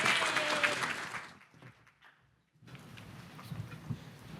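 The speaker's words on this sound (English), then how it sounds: "Let's give our panelists a round of applause again" A room full of people applauds the panelists of a food insecurity discussion with loud, dense clapping that fades out by about two seconds, then brief quiet before murmuring and movement return.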